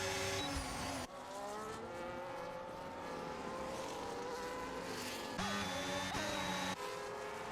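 Race cars in the F1 25 video game running side by side around the Singapore street circuit, a loud continuous engine whine with shifting pitch as the cars jostle and change gears, with no talk.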